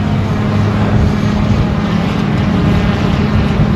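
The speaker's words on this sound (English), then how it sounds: "That's a Ukrainian drone going into the air, thankfully." A Ukrainian drone takes off near an industrial park hit by a strike, its steady loud propeller drone and motor hum filling the air without a break.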